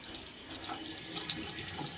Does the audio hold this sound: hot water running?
yes